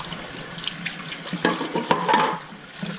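Raw chicken coated in red achiote gets a quick rinse under a running kitchen tap, a steady close splash of water that briefly thickens as the meat is turned in the stream.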